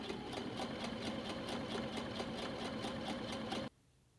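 A sewing machine runs steadily while stitching a fabric strip for a belt loop, giving a close, continuous whirring hum with a fast regular needle rhythm that stops abruptly near the end.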